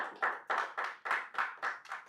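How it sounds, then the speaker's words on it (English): Slow rhythmic clapping at a CEO retreat masterclass in Doha, about eight distinct claps in a steady beat, fairly faint and close with no talk. "I think you should clap at this point."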